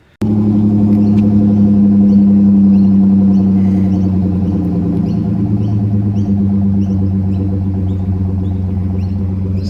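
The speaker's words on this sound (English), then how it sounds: "So we're just going for idle here and low revs." A VN Commodore SS engine starts and settles into a steady idle at low revs, its deep exhaust burble loud, close and continuous, slightly louder just after start-up and then easing off.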